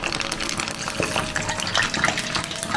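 Water pours steadily into a container while making medu vada batter, a continuous close splashing and gushing flow filling the whole moment without any talk.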